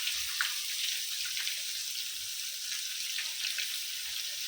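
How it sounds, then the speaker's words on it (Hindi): Fish pieces fry in a pan with a soft, continuous hissing sizzle, fairly quiet and even, with faint crackles scattered through and no talking. "देखो, एकदम फर्स्ट क्लास मच्छी फ्राई हो रही है।"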